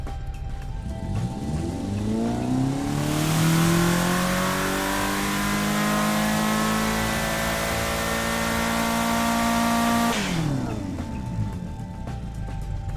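A simulated Hennessey Venom F5 engine with one muffler removed, built in the game Automation, revs up from idle, holds a loud rising roar for several seconds, then drops back to idle, with no voices.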